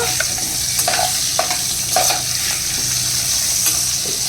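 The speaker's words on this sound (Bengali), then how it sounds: "আলু ভাজা হতে থাক" Loud, continuous sizzle of potatoes frying in oil, with occasional soft scrapes of stirring, close up and no voices.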